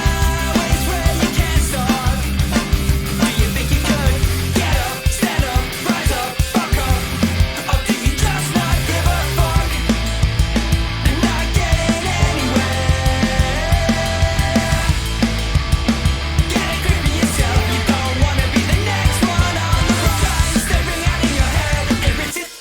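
A dense, loud full-band rock mix with steady driving virtual drums, distorted guitars and bass playing continuously throughout.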